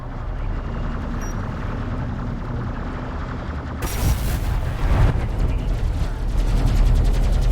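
Assault Railgun firing in the real-time strategy game Deserts of Kharak during a competitive match: dense layered blasts and booms, continuous battle noise that grows louder and heavier after the first few seconds, with no speech.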